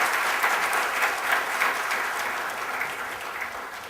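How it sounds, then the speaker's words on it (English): Big round of applause from a conference audience at a Bangalore biotech investment event for Kiran Mazumdar Shaw, a sustained crowd of clapping hands heard from a little distance, fairly even and slowly tapering off. "let's give a big round of applause for Kiran here"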